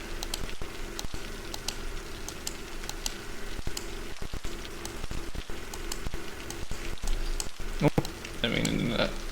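Steady rain falling in the city-building game Cities: Skylines, a dense even patter that runs unbroken throughout, with faint clicks over it and no talking.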